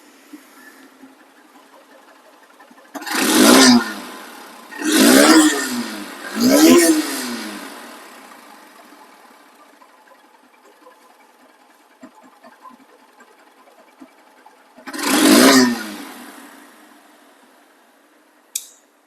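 A second-hand Honda CBS Hornet motorcycle in good condition idles quietly, then its engine is revved sharply four times, three in quick succession and one after a long pause, each rising and falling smoothly.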